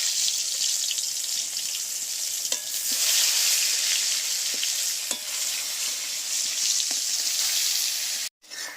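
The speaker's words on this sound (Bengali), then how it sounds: "তেলটা গরম হয়ে গেছে, এবারে বেগুনগুলো দিয়ে দিচ্ছি।" Eggplant pieces fry in hot mustard oil in a kadai, a loud, close, continuous sizzle with sharp spatters and stirring clicks, ending in a brief cut of near silence.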